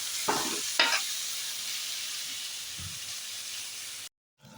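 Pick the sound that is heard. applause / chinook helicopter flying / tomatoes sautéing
tomatoes sautéing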